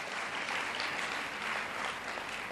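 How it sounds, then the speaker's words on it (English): Audience at a youth pitso applauding, a continuous even roar of many hands clapping, moderately distant and sustained for the whole stretch with no speech on top. "May we please give ourselves a round of applause."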